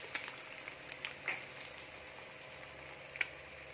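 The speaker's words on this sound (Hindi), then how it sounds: "फ्राई हो गए, दो तरफ भी पलटा पलटा के मैं फ्राई करी" Dry fish frying in a pan, a soft steady sizzle with occasional sharp pops and crackles, faint and continuous with no talking.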